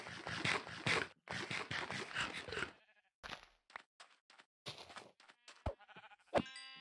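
Sheep in the game Minecraft bleat in a few short, clear calls amid sharp clicks and scraping game sounds; the sounds come in bursts with quiet gaps between them.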